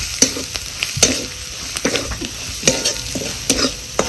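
A spoon scrapes repeatedly through roasted masala and onion sizzling in oil for kharda bombil, giving close, irregular stirring strokes over a constant frying hiss, with no talking.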